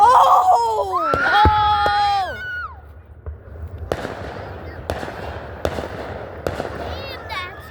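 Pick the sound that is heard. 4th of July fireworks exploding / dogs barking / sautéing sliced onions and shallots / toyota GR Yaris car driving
4th of July fireworks exploding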